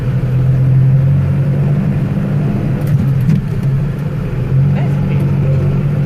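A tractor with a creeper gearbox idles and runs steadily nearby while gears are shifted, a constant low engine drone with slight dips in load, and mechanical clunks faintly mixed in.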